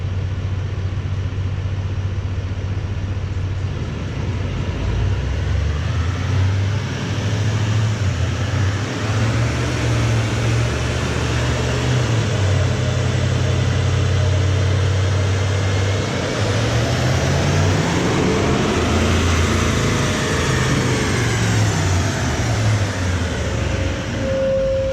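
An L5P Duramax diesel truck running on a dyno with the air filter removed, a loud continuous engine roar and drivetrain drone building steadily over a long pull, close and unbroken with no talk.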